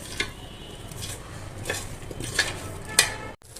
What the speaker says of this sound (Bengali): কড়াইতে তেল গরম হলে ভালো করে নেড়ে ছেড়ে ভেজে নেব আলুটাকে